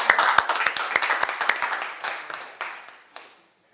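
A small group giving a short round of applause, quick sharp claps that thin out and fade to a few last hand claps within a few seconds.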